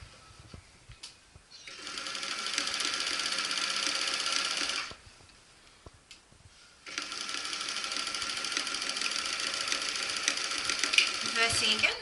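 A sewing machine stitches a fabric pouch for rescued reptile park animals, two bursts of rapid, even mechanical clatter of a few seconds each separated by a short pause, close and clear with soft speech in the gaps.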